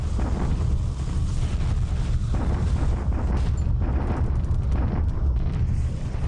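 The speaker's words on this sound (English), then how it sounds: "And then our return bombardment." Return bombardment in a naval war video game: a continuous loud rumble of overlapping explosions and booms, heavy and sustained with no pauses and no voices.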